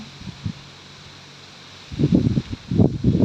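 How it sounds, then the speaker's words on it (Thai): Strong gusting wind buffets the microphone outdoors where an elephant is kept in cold weather, starting as a low rumble and then surging into loud, close bursts in the second half. "ลมแรงจริงๆนะคะ"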